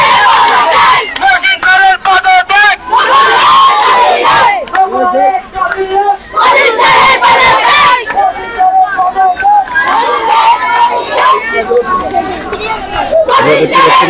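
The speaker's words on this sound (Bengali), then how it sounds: "সেই বিষয়ে তারা স্লোগান দিচ্ছেন" Crowd of students chanting slogans at a roadside protest and blockade in Matlab, loud rhythmic shouted bursts from many voices with brief pauses between chants, close and dominant.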